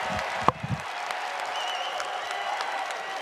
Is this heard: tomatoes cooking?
no